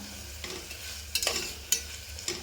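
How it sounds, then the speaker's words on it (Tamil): Chopped tomato sautéing in a pan with onion and ginger-garlic paste, a steady low sizzle broken by several sharp scraping stirs of a spoon, close and clear with no talk. "இந்த தக்காளி நல்லா வதங்கி வரணும்"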